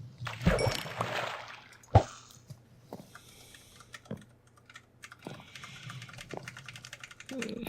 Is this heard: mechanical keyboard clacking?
yes